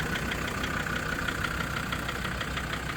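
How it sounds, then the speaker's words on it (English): Land Rover Discovery 2 from 2003 with a TD5 diesel engine ticking over at idle, a steady close rumble with a faint regular clatter, running alone without voices. "Hear that wonderful TD5 ticking over."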